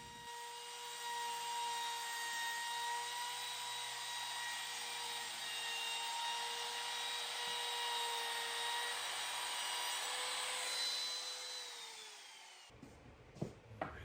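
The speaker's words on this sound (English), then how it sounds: "Now I'm using a roundover bit in the router to soften the bottom edge." A router fitted with a roundover bit whines steadily at high pitch for about twelve seconds while easing the bottom edge of a board for a sauna bench, then spins down and stops with a few light knocks.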